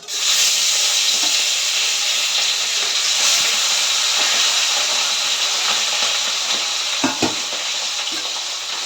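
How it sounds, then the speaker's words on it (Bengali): Loud, continuous sizzling of fish frying in hot oil, a bright hissing crackle close up, with a few sharper pops and knocks later on. "তেল গরম হয়ে গেছে। এই মাছটা আমি এখন করব। আগে মাছটা ভেজে নিই।"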